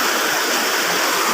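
River water flowing in a steady rush, a constant bright wash of moving water that holds level from start to finish without any talking.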